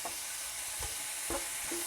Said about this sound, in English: Just give it a good stir. We're going to cook this off now for about another 2-3 minutes